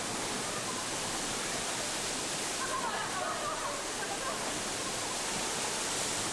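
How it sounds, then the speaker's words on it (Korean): A small waterfall about 15 m high pours into a deep green pond, making a steady, unbroken broadband rush that fills the whole stretch, with a faint voice briefly over it. "높이가 15m 정도인 아담한 폭포다."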